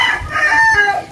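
Chickens cluck and a rooster crows close by during a poultry bath and coop cleaning, the crowing rising in long tonal calls over low scratchy farmyard noise, with no one speaking.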